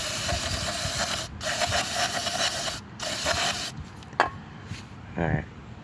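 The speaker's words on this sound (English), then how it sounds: "Notice I'm not spraying directly on the sensors yet." Several short bursts of aerosol cleaner spray hiss loudly in quick succession near the air intake sensors of a 1999 Chevrolet Malibu, followed by quieter handling clicks and a brief squeak.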